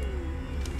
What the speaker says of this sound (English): so that's my AC